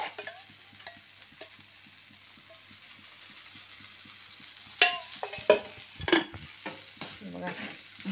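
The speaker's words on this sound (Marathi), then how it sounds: "तर आपण ह्या साईडने तेल टाकून" Thalipeeth frying in oil on a pan, with a faint steady sizzle and a run of regular soft taps, then louder scraping and stirring clatter toward the end, heard alone without talk.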